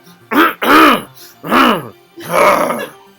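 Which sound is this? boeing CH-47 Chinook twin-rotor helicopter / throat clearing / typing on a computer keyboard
throat clearing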